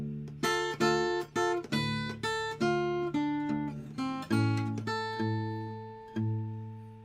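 Blues guitar turnaround in A, a run of plucked notes and chord stabs ringing one after another with a steady rhythm, close and clear with no talking.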